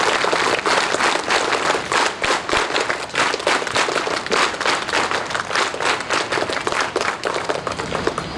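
Loud, dense applause from a crowd at a police parade ground event for International Day of the Girl Child, a steady roar of many hands clapping that holds for the whole stretch.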